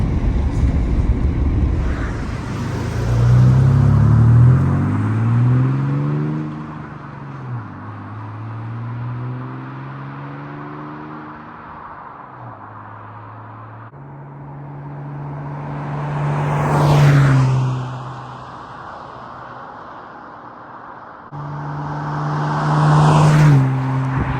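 A 2000 Ford Ranger 3.0L engine with a Dynomax Ultra-Flo stainless cat-back exhaust, deep and throaty, rumbling nearby, revving up and settling back to idle several times, no talking.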